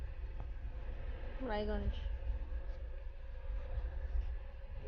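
Interior of a moving train entering Raiganj, a steady low rumble and rolling rattle beneath a short stretch of speech.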